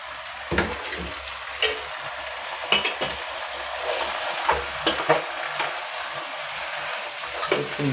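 Tajliya leafy greens sizzle in a pan for a traditional Gujarati bhaji while a spoon stirs them, scraping and clinking against the metal in irregular bursts over a soft, steady frying hiss.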